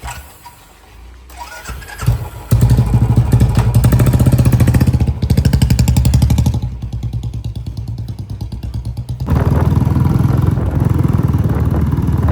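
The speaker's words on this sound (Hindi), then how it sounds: "बाइक से जाइ छै ट्रैफिक रहै छै" A motorcycle engine starts and runs loud and close, holding a steady throbbing note with a dip in level midway before rising again, moving through daytime traffic with no talking.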